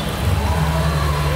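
Steady rain falls during a roadside stop at Premtola on a motorcycle ride near Silchar, a dense continuous patter with a low rumble underneath, close and fairly loud throughout.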